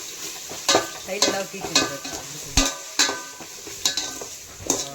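Ginger garlic paste sautés in hot oil, a steady sizzle punctuated by regular, evenly spaced spatula strikes against the pan, close and clear, with a brief spoken word.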